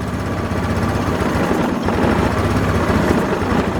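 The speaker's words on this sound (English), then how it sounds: "I'm just going to let it idle for a little bit." A Linhai Aeolus 260 scooter engine idles steadily nearby with a continuous loud, throbbing drone.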